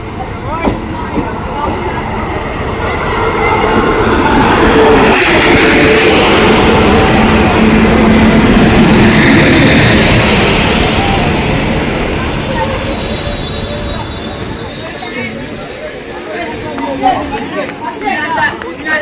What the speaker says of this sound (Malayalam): WP7 ആണ് ലോക്കോമോട്ടീവ്.